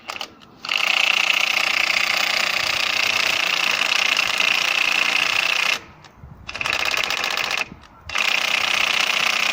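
Diesel engine of a Vauxhall Vivaro van running steadily after three new injectors were fitted, a continuous close mechanical clatter with two brief drops in level.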